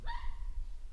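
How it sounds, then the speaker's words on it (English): A dog gives one short, sharp bark in the background, a single faint yip under a low outdoor rumble. "That's my dog in the background."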